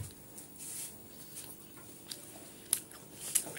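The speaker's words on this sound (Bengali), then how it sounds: "আর আমি এখানে বসে পিঠে খাচ্ছি" Close, quiet chewing and soft biting on kheer pitha, a Bengali rice cake filled with jaggery kheer, with a few sharper crunchy clicks scattered over a few seconds and no talking.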